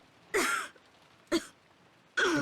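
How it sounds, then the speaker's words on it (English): A character in the visual novel Umineko coughs in three separate bursts: a long first hack, a short second one and a third starting near the end, each rough and fairly loud, with quiet gaps between and no talk. "Ava starts coughing."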